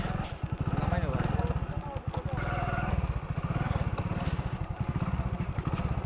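A motorcycle engine runs steadily and close by while the bike is ridden, with a continuous throbbing putter throughout and someone talking over it.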